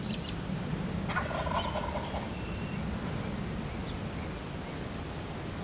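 A lone wild turkey gobbler gobbles once in a rattling burst at close range, followed by quieter outdoor ambience.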